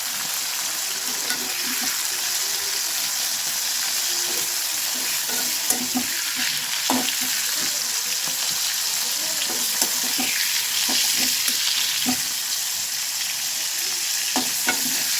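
Beans and cauliflower fry in oil in an old, blackened wok. A constant bright sizzle runs throughout, with scattered soft scrapes and knocks of stirring close by.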